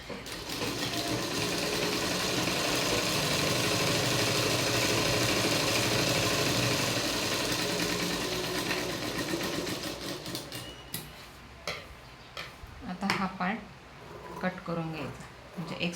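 Sewing machine stitching a V-neck blouse, running in a fast, steady whir for about ten seconds before stopping, followed by softer handling sounds and a voice talking.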